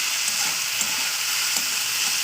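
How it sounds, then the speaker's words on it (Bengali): Close, steady sizzling of beans and potatoes frying in oil, with soft stirring scrapes under the constant crackle. "তো চলুন এটা ভালো করে ভাজা করে নেবো।"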